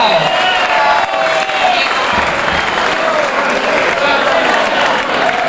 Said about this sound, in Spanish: Venga, arriba, un aplauso para la chica esta